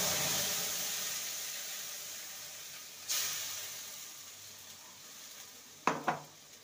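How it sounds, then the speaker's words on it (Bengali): A prepared spice paste going into a frying tempering for a besan and pumpkin dish: a soft, steady pan sizzle slowly fades, broken by a sharp utensil clink midway and a double metallic knock near the end. "এবার যে মশলাটাকে রেডি করে রেখেছিলাম সেটা দিয়ে দেব।"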